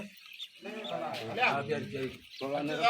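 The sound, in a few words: pigeons cooing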